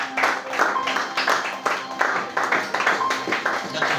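A church congregation claps in praise during a Sunday school service, steady rhythmic clapping from many hands filling the room, with voices mixed in underneath.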